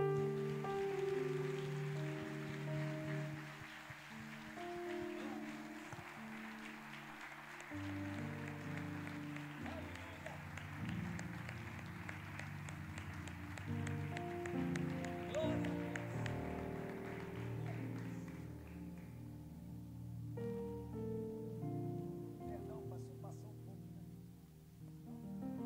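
A congregation applauding at a church service led by a pastor, a steady wash of clapping that runs for the whole stretch, dense and sustained, mixed with music underneath.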